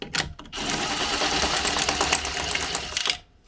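A power tool buzzes nuts off studs on the rear panel of a Polaris Ranger 570 EFI gearbox under repair, a couple of short bursts and then a steady loud whirring run of about two and a half seconds before it stops.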